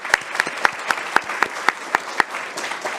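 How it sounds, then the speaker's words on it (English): An audience applauds the speakers at a university subject evening, a room of clapping with distinct sharp claps standing out in an even, sustained rhythm. "Could we get a round of applause for the speakers?"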